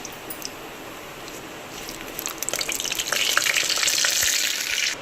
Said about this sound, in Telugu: ఒక బిర్యానీ ఆకు కొంచెం సాజీరా వేసి దీన్ని కలుపుకోవాలి